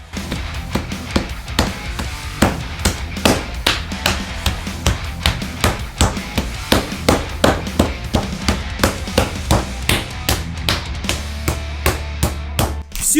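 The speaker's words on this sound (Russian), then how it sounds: "Хорошенько распластываем руками или молотком 2 свиных грудинки." Steady, heavy thuds of a mallet pounding pork belly flat on a board, about two blows per second, close and loud throughout, over a low hum.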